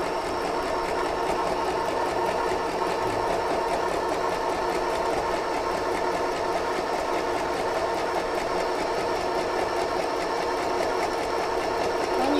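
An FHSM-519 sewing machine runs steadily, stitching a pattern with a continuous, even mechanical whirr and fast rhythmic needle clatter, close and uninterrupted, with no voices.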